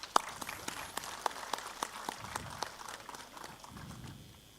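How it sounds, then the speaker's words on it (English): Applause at an inaugural session in a hall, scattered claps and taps forming a light, fairly faint round that tapers off after a few seconds, heard from a distance. "let us have a big round of applause"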